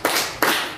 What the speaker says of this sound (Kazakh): Жақсы, 3 шапалақ.